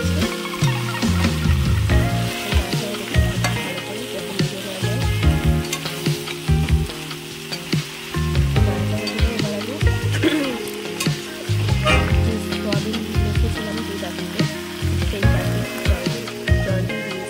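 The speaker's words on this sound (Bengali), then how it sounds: "দেখো ভালো করে নাড়াচাড়া করে নিচ্ছি" Soybean curry fries and is stirred in a pan, a loud, steady sizzle with continuous scraping and clattering strokes of a spatula, close up and without pause.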